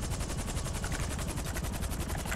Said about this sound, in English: I'm going to ignore any gunshots.